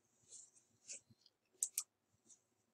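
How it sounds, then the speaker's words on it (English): Computer mouse clicks during CAD software work, a handful of faint, sharp clicks spread unevenly, with a close double click in the middle, alone in a quiet room. "So we're going to click here."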